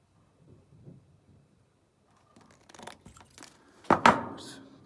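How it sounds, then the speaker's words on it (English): Cutting through material during a DCC 170 battery cell replacement, a few sharp snips and tearing crackles, close and fairly loud, after a quiet stretch. "Gonna cut this."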